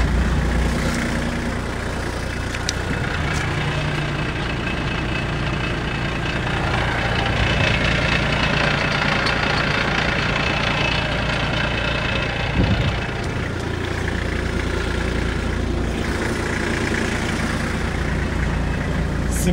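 An Iseki TH235 compact tractor engine runs in gear with a steady, close, rumbling drone that holds fairly even throughout, with no voices over it.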